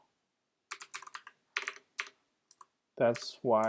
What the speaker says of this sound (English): these weird typing things happening